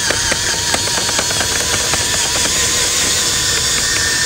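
A drill fitted with a 5/16 bit bores out a rubber coilover bushing for a 1968-1972 Chevelle, grinding and chattering loudly and steadily up close with rapid rough scraping.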